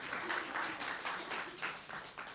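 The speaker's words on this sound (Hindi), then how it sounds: "तालियां तो बजाओ जरा" Audience applause at a spiritual talk, a steady burst of clapping from a crowd that swells and dips in a few rhythmic waves.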